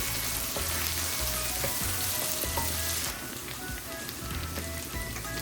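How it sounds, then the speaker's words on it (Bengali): Chopped onions frying and being stirred in a pan for a Bengali lobster coconut curry, giving a steady loud sizzle with rhythmic low scraping stir strokes throughout, no voices. "পেঁয়াজগুলোকে ভালো করে নাড়িয়ে চাড়িয়ে একটা গোল্ডেন ব্রাউন কালার করে নেবে"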